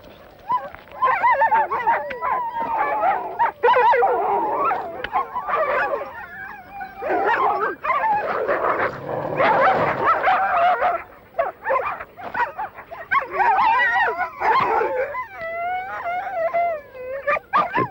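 Chained sled dogs bark, howl and whimper in a restless chorus that runs almost without pause, voices overlapping at close range as a migrating polar bear approaches on the edge of the ice near Churchill.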